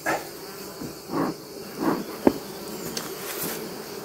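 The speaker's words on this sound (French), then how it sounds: "les abeilles rentrent en bruissement" Honeybees buzzing at a hive entrance during smoking by a beekeeper, a faint steady hum with a few brief swells and a sharp click, fairly quiet throughout.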